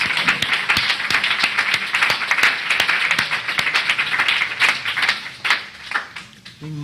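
A church congregation at a Sunday celebration claps for Reverend Ian, a lively round of applause with sharp individual claps standing out, swelling and then tapering off toward the end.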